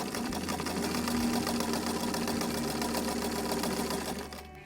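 A sewing machine stitches a skirt placket, giving a steady, close mechanical whir that runs without a break and tapers off at the very end. No one speaks.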